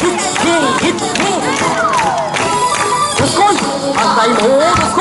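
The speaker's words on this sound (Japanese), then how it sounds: "1、2、1、2、手拍子お願いします" Audience clapping along in time at a Kumamoto Electric Railway train festival featuring Kumamon, steady rhythmic claps mixed with lively crowd noise, children's voices and music, with people talking and calling out throughout.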